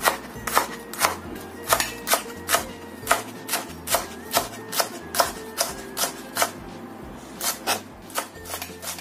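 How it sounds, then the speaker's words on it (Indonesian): Spring onions being finely chopped with a knife on a board, a quick regular run of crisp taps, about two per second, close and clear with a faint background hum. "Kemudian daun bawang. Ini kita rajang halus saja."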